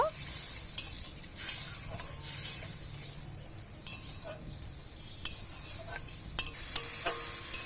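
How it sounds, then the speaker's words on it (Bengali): Spiced small-fish curry sautéing in a pan, a low continuous sizzle broken by intermittent stirring scrapes and a few sharp clinks of the utensil against the pan, close up and without talk. "কষানো হয়ে গেছে সামান্য পরিমাণ জল দিয়ে আরেকটু আমি কষিয়ে নেব"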